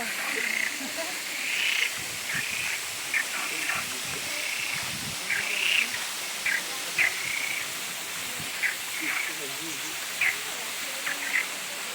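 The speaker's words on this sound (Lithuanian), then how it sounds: "Gerit kaip kurkia varlytės, klausykit." Small frogs croak in repeated short, bright calls over a steady background hiss beside a bathing spot on Sao Miguel in the Azores, fairly close and irregularly spaced, with no one talking.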